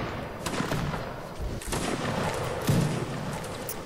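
Musket volleys in the Napoleonic battle game Mount and Blade: Napoleonic Wars sound as dull, crackling bursts of massed fire at moderate distance, with a couple of heavier thumps within a continuous rumble.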